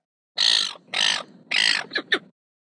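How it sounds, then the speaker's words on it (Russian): A seagull gives three harsh, drawn-out squawking calls followed by two short clipped notes, loud and close, with silence before and after. "Чайка."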